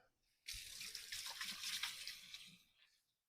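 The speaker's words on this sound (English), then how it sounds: "Let's wash our hands." Water runs from a kitchen tap as hands are washed under it, a steady rushing splash that starts abruptly, holds for about two seconds, then cuts off into silence.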